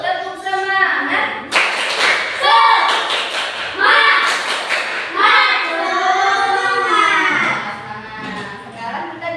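A class of children in a classroom does a rhythmic spirit-clapping routine, bursts of hand claps and thumps alternating with loud chanted voices.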